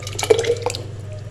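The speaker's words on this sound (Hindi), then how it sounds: "अब एक जग ले लेते हैं, जग में डाल देंगे सबसे पहले इमली का पल्प डाल देंगे।" Tamarind pulp pours and drips into a jug in a kitchen, a short wet splashing burst that quickly fades to a light trickle, close and fairly loud with no talking.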